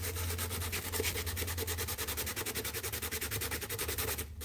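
Hand sanding a custom pick, quick regular back-and-forth rasping strokes at close range, steady and fairly quiet, ending with a brief pause.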